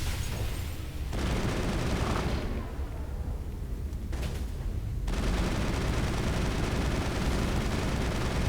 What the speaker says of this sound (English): Alright, explosion coming up.